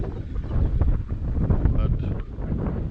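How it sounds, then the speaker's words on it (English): Heavy wind buffets a microphone on an exposed hilltop, producing loud low rumbling gusts that rise and fall continuously, with a voice partly audible beneath the roar. "It's a little bit windy up here"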